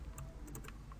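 Computer keyboard typing while code is entered, a quick run of light, close key clicks over about a second, faint and without voices.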